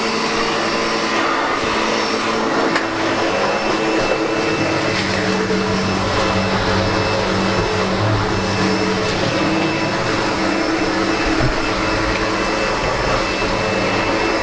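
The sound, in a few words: upright vacuum cleaner with brushes running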